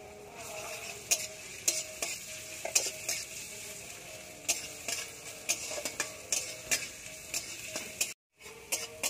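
Chopped onion and garlic paste fry in a pan for a spicy crab curry, a steady close sizzle broken by repeated scraping stirs, with a brief drop to silence near the end.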